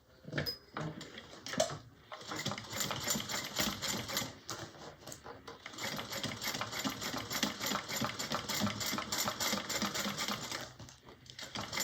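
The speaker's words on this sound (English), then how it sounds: "we're going to go ahead and top stitch here" A sewing machine topstitching a small bowler bag runs in a fast, steady mechanical rattle for most of the stretch, close and fairly loud, after a few brief clicks and pauses at the start.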